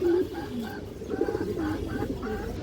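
Pigeons in a large loft of flying birds, one with all-black tail feathers, coo in short repeated rounded phrases, fairly close and steady over a low background murmur of other birds.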